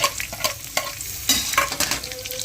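Green chillies, shallots and garlic fry in a pan for a dry fish and ladies finger curry, giving a continuous crackling sizzle with repeated stirring scrapes, near and without speech.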